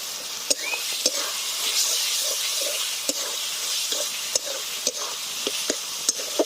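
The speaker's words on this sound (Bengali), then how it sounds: "মশলাটা ভালোভাবে কষিয়ে নেব" Turmeric and chilli powder are stirred and fried in a pan, giving a continuous sizzle and hiss, broken by regular scraping knocks of the spoon against the pan.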